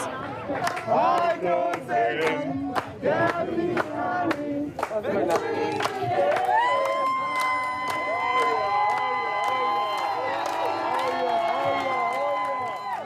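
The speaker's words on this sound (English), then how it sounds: "DNA leader Orinthia Komolafe exited Central Police Station to a crowd of cheering supporters" Supporters and family members cheer and shout outside Central Police Station, a loud outdoor crowd with yells, whoops and excited voices rising and falling, some sustained calls near the end.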